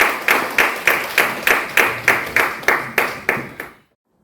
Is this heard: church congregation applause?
yes